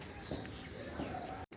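Pigeons, kept Giribaj tumbler birds, coo softly and repeatedly in low, rounded calls against a faint background hiss, with a brief thin chirp partway through.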